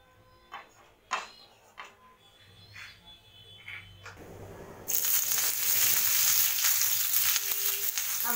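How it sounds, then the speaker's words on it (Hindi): Paneer shallow fries in hot oil on a tawa: after a few quiet clinks and taps, a loud, dense sizzling hiss suddenly erupts and continues steadily, close up with no talking. "ऑयल गरम हो जाएगा तो हमें पनीर को शैलो फ्राई करना है।"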